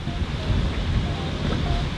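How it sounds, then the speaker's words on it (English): Strong wind of 23 knots gusting to 28 buffets the microphone aboard an old trawler in a loud, continuous roar with gusty fluctuations, water sloshing faintly underneath. "that's a lot of wind."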